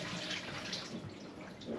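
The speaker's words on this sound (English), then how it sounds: "So we pour out the water for the same thing." Water pours steadily out into a kitchen sink while preparing jerk pork and chicken, a continuous broadband splashing rush that stays close and even throughout, with no talking.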